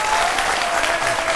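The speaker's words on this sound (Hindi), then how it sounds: "इतने सारे लोग ताली बजा रहे हैं" Applause from a large audience, steady and continuous crowd clapping that fills the whole moment at a fairly loud level without a break.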